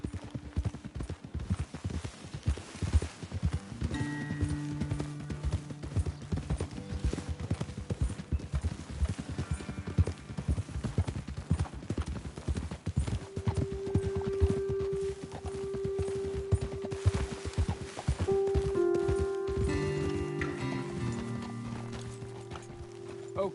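Horse hooves clip-clop in a steady walking rhythm in the video game Red Dead Redemption 2, with tonal game music and occasional whinnies layered over the footfalls.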